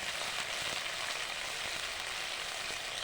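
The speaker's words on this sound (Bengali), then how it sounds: "এই তেলের মধ্যেই আমি মশলা দিয়ে দিচ্ছি।" Spices and turmeric frying in oil before rohu fish is cooked give a soft, even, continuous sizzle, steady and fairly faint throughout with no talk.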